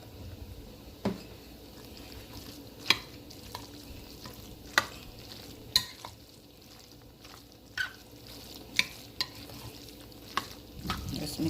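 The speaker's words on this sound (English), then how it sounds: "Mix up everything. I need a larger spoon." Spoon stirring through a Jamaican-style Sunday dinner mixture, a quiet scraping churn under faint sizzling, with several sharp clinks of the spoon against the pot spaced through the stir.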